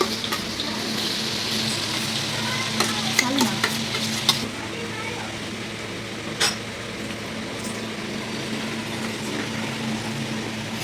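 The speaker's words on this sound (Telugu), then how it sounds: "వెల్లిపాయ వేసేసి పోపేసేస్తున్నాం" Garlic tempering crackles and sizzles in hot oil at close range, a dense steady hiss broken by a few sharp pops and clicks, with no voices over it.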